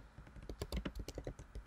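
Quick bursts of typing on a computer keyboard, close and clear, with uneven clusters of key clicks and no voices.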